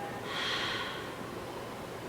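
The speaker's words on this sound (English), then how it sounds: "making a sound when you exhale" A long, breathy exhale through the mouth, a soft rushing of air close to the ear that swells and then slowly eases off.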